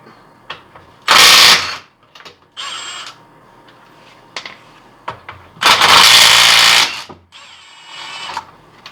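A Milwaukee cordless impact wrench tightens lug nuts on a Dodge wheel in two loud, close hammering bursts of about a second each, with quieter clicks and handling noise from the socket and nuts between them.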